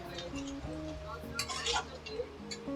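Marinated chicken pieces are mixed in a bowl, giving scattered clinks and clatter of utensil against dish, fairly close, alongside a voice and tonal background sounds.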